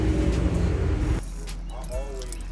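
A Ford Explorer with a muffler delete and a MagnaFlow exhaust with no resonator drives off. A loud, rough burst gives way to a steadier, deep engine rumble close by.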